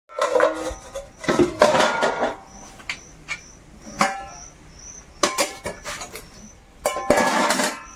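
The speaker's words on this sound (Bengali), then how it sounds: "বাসন কোসন গুলো সব বের করে নিচ্ছি, সব পুকুর ঘাটে নিয়ে গিয়ে ধোয়া মাজা করতে হবে।" Metal pots and pans pulled out and stacked in an old village house in the Sundarbans, close clattering and clinking in irregular bursts with short ringing tones, no talk.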